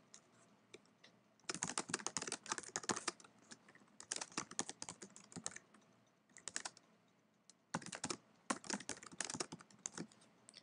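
Bursts of rapid typing on a computer keyboard, close and clear, with dense clicking runs broken by short pauses and no talking.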